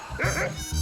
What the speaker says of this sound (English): I was talking to the dog.